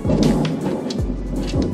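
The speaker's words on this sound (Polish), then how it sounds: "Ale grzmotnęło, burza idzie." Thunder rumbles low and continuous as a storm approaches, mixed with steady rain, loud and close with no talking.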